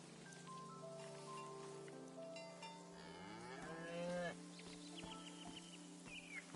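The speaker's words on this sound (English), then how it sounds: "You are a cow and you are named" Cattle mooing in a farm-life video game scene, several drawn-out lowing calls over a steady low ambient hum, with a louder moo rising near the middle and softer calls after.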